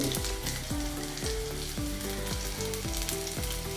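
Curry leaves sizzle steadily in hot oil for a green mango pickle, a continuous loud frying hiss with no talk, backed by a repeating melodic music pattern.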